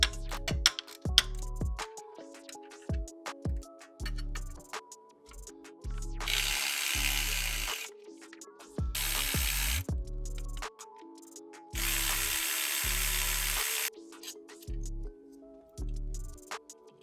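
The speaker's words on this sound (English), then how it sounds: "Now I can go ahead and back these bolts out. I'll break all these loose, why not?" A ratchet clicks in short bursts while bolts are broken loose and backed out on a Ford Explorer ST, with quick ratcheting runs separated by pauses and a few bursts of broadband hiss.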